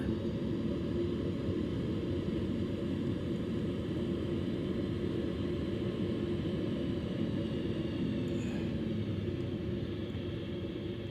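A light aircraft flies low on landing approach with flaps extended in a flight simulator game, giving a steady, loud engine drone and rumble that holds unchanged from start to finish, with no voices.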